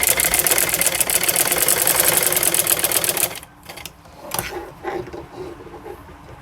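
A sewing machine runs steadily and loudly, stitching a fabric patti onto a palazzo pant, then stops abruptly partway through, followed by quieter fabric handling and a few light clunks.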